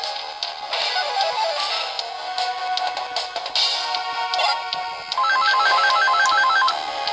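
A phone ringtone rings loudly over busy game music and sound effects, ending in a repeating electronic melodic pattern of short beeps near the end; no one speaks.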